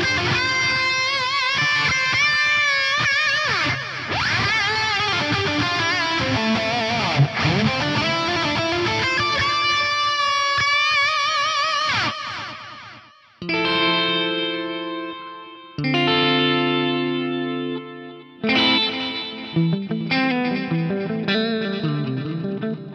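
Guitar fed through a Korg DL8000r rack delay set to dotted eighth and quarter note repeats, first a dense driven passage with echoing trails, then cleaner chords ringing in separate bursts, loud and alone.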